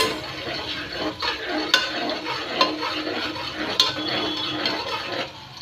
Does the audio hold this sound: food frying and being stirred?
yes